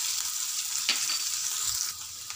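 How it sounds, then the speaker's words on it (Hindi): Garlic and curry leaves sizzle steadily in hot oil for a dal fry tadka. The frying hiss is close and continuous, with a brief stir near the middle and no voices. "अब डाल देंगे थोड़े से करी पत्ते, लहसुन। लहसुन को हम अच्छे से ब्राउन होने देंगे।"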